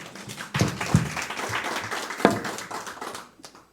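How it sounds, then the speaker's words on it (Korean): At Sunil Church, a congregation claps for a speaker at a sermon contest. The applause is moderate and loose, with a few sharper individual claps standing out, and it thins and fades toward the end. "우리 박성호 집사님 우리 힘찬 박수로 모시도록 하겠습니다"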